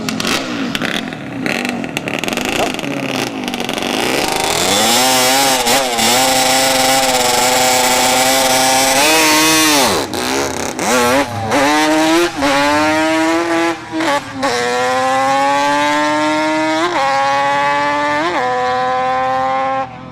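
Two Honda CBR 1000 sport bikes launch down a dragstrip at a test-and-tune event, engines screaming loud and close as they climb through rapid upshifts, the rising whine breaking and restarting at each gear change.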